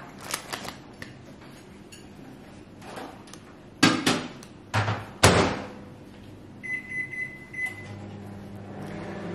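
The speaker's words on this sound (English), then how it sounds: "I'm going to wilt it in the microwave for a little bit" Microwave oven used to wilt spinach: several close clunks and clicks of the door and handling, followed by a steady high electronic tone and running hum, with kitchen clatter around it and no speech.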